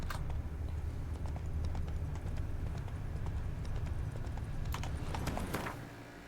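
A horse in The Witcher 3 gallops with fast, even hoofbeats at close range, rolling on steadily with no talk before easing off and fading slightly in the final second.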